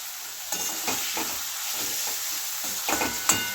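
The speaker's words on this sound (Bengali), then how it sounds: "এগুলো সব হালকা হালকা ভাজা হবে" Chopped beans frying lightly in a pan with salt, a soft steady sizzle marked by several scraping stirs of a spoon, close and without talk.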